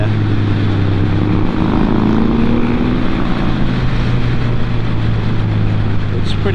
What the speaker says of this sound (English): Let me just show you the Rocket Overtaking.